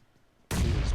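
A single sudden gunshot in a first-person shooter game tournament match, bursting sharply after half a second of near silence and sustaining loudly to the end.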